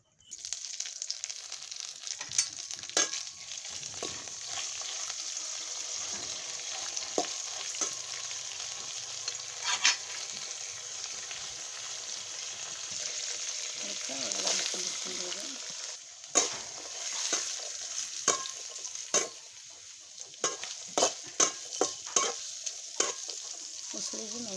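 Cumin seeds and curry leaves fry in hot oil with a continuous crackling sizzle, broken by repeated scraping and stirring knocks of a spoon against the pan that grow busier toward the end; no one talks.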